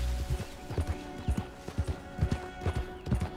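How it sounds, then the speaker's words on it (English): Horse hooves clip-clop steadily in the video game Red Dead Redemption 2, an even walking rhythm of distinct close thuds, moderately loud with no talking over them. "Oh, we got a horse up there."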